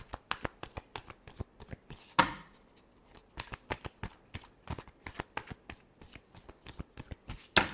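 Tarot cards being shuffled by hand in a quick series of crisp riffles and flicks, close and clear, with a brief pause and a louder snap partway through, no voices.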